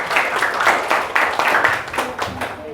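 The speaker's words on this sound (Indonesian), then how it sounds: "beri aplaus dulu untuk kita semua" Students in a geometry classroom clap together in a brief burst of applause, loud and close, with a loose, uneven rhythm.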